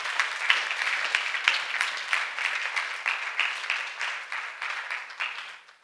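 A church congregation claps for Jesus at a deliverance and healing service, a steady patter of many hands that holds for several seconds, then thins and fades out near the end.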